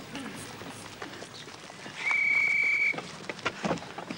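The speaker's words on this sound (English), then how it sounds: "Well, that was the first whistle" A steady whistle blown as a signal in a wartime Home Guard comedy scene, one sustained shrill blast of about a second over background chatter and outdoor ambience.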